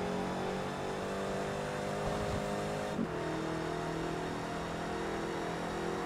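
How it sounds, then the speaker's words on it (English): A race car in Forza Motorsport 3 screams at high revs after a hasty downshift from third to first under heavy braking, a loud steady engine whine with a brief blip partway through and no talking. "Just revved the arse off the engine."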